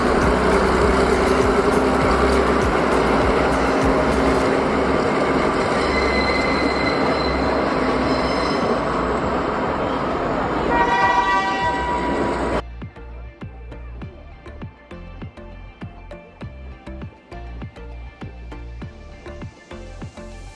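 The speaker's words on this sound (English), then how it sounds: "I actually didn't think I would see a train" A train in Sri Lanka rumbles past close by with squealing wheels and rattling carriages, loud and continuous, then the clatter of wheels over rail joints carries on in a rhythmic clickety-clack as it recedes.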